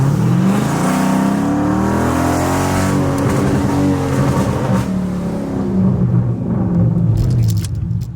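A Dodge SRT 392 fitted with Power Stop pads and rotors slows from about 50 mph, with loud steady engine and road noise that tapers as the car decelerates, no brake squeal audible.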